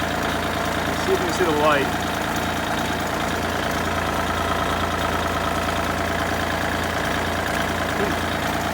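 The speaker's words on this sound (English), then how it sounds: "Let's fire it up." Kubota L2501 diesel tractor engine idling steadily with a low, even drone throughout, a person speaking briefly over it near the start.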